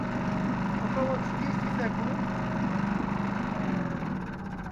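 A Honda engine runs just after being started. A steady mid-pitched drone continues throughout while someone speaks over it.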